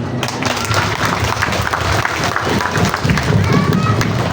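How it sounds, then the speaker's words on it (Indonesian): Applause from an audience at a Quran completion (khotmil Quran) ceremony, a steady patter of clapping mixed with crowd babble and voices throughout. "Tepuk tangan."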